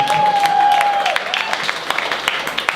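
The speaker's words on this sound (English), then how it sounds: "Give him a round of applause for that." Audience applause at a comedy roast, a loose patter of clapping from a small crowd that thins out into scattered claps, opening under a brief steady tone.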